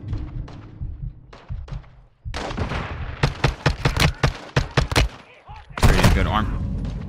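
Bursts of rifle and automatic gunfire in a Call of Duty story mission, sharp close shots in quick rhythmic strings after a quieter opening, ending in a heavy blast, with a voice talking in between.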